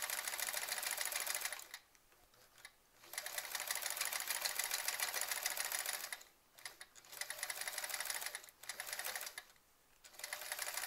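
A sewing machine stitches through a quilt in fast, rapid runs of close, buzzing clatter, broken by short pauses between bursts.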